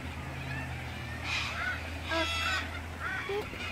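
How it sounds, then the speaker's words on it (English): Geese at a park lakeside honk several times in short, bright calls grouped in two or three bursts, moderately close over a low steady hum of outdoor background. "Look at the birds down there."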